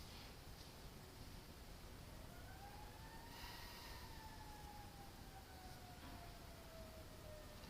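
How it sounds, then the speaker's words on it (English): A siren wails in the distance, its rising and falling tone faint but steady over a constant background hiss, with no voices. "Sirens going on outside."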